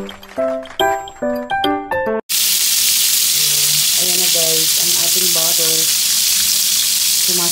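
Chicken adobo fries in a pan with a loud, continuous sizzle. Before the sizzle starts, a short stretch of music with clear tones plays, then the hot oil takes over and another musical line sounds faintly beneath it.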